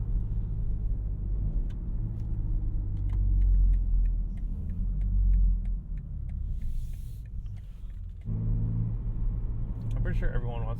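BMW G80 M3 Competition engine and exhaust with the valves open, a deep steady rumble from inside the cabin that swells and eases, then drops lower near the end, with occasional ticks on top.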